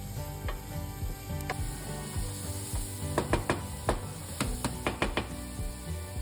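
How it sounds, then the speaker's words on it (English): Chopped onion sautéing in hot oil in a skillet over medium-high heat, a steady sizzle broken by a run of sharp clicking and scraping strokes, close and with no one talking. "begin to saute the chopped onion for about 3 to 4 minutes until they are tender"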